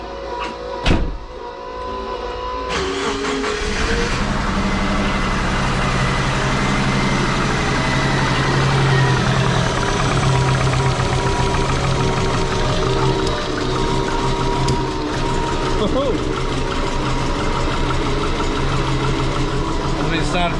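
A twin-turbo Subaru Forester with a fuel pressure issue starts after a short crank and settles into a steady, loud idle that runs without a break, with a low engine hum and some higher whine on top.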